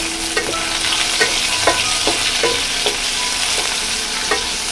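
Dried red chillies frying in hot oil, a steady close sizzle punctuated by several short, evenly spaced stirring scrapes.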